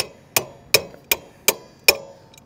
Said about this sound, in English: Can you take this adjustable hammer and tap this in for me?